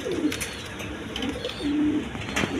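A pair of German shield pigeons, a male and a female, coo softly on a pigeon farm, giving several low, rounded coos in a row against steady background noise, with no one speaking.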